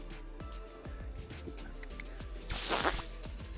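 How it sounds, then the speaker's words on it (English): A single sharp, high-pitched gundog training stop whistle blast rings out for about half a second, loud and near, after a brief faint chirp and quiet footsteps. "when I blew my stop whistle"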